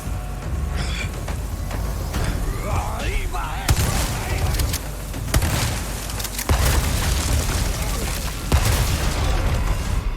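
Hand grenade blast in Resident Evil 4 Remake, a heavy booming explosion among a busy stretch of game combat noise, with several sharp cracks and thuds in a noisy, rumbling mix.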